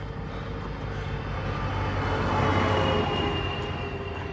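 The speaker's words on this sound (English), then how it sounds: "There's a tractor coming." A tractor passes on a hilly road in Wales, its low engine rumble steady and close, swelling slightly as it goes by, with no voices.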